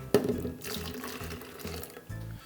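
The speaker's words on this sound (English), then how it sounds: "so I'm gonna add another half cup of water." Water poured from a cup into a chocolate molten lava cake batter, a splashing burst at the start followed by gurgling, bubbling pours in short bursts, close and alone.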